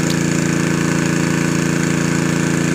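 A water well drilling rig's engine runs steadily at a borehole around 50 meters deep, a loud, continuous droning hum with a constant low throb and no pauses or voices.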